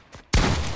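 A short burst of video game gunfire hits abruptly after a faint lead-in, then sustains loud and dense to the end.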